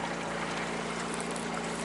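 Motorboats on the Lena River in Yakutia travel tied together, one engine out of fuel, with a steady outboard drone and low hum under constant rushing water noise, close and unbroken throughout.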